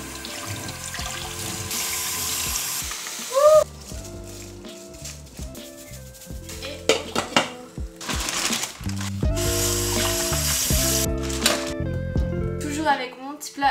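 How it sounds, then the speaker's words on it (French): Rice being rinsed under a running kitchen tap, with bursts of flowing water and splashing in a bowl, alternating with short pauses and clinks, close and moderately loud. "Ensuite je vais faire cuire du riz, mais je vais le rincer avant."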